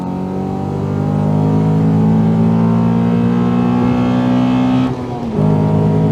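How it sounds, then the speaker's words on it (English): A Nissan Skyline 250GT's V6 engine runs loud and close with a steady, humming drone that holds level, drops briefly near the end, then picks back up. "sonorous engine sound"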